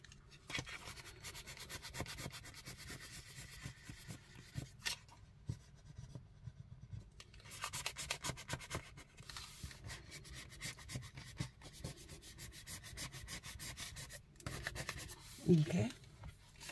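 A blending tool rubs ink into paper on a planner dashboard, making a long stretch of soft, quiet, rhythmic scrubbing and swishing strokes up close, with a brief louder bump near the end.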